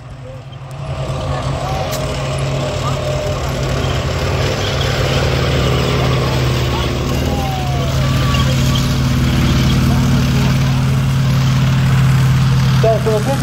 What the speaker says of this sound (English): The M18, which is going past now, weighs about 17 tons and has the same engine.